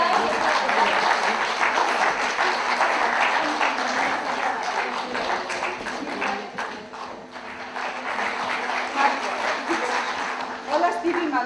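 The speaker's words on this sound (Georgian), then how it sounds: "აპლოდისმენტები." Audience applause at a book event in Georgia, a dense, steady clatter of many hands clapping that holds for the whole stretch, moderately loud and close, dipping briefly in the middle before swelling again.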